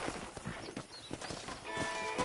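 A horse ridden in Red Dead Redemption clip-clops steadily over the ground, with faint snorts and jingling tack over a busy outdoor ambience.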